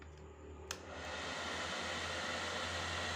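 A hair dryer plugged in as an electrical load runs steadily on its lowest setting, its fairly quiet airy whoosh rising after a brief click and then holding even and unbroken.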